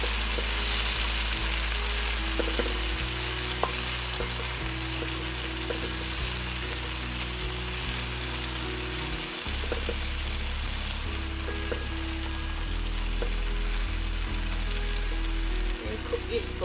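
Spice paste for satay sauce frying on medium-low heat, a continuous soft sizzle and crackle with occasional stirring scrapes, steady and moderately quiet under a low background hum.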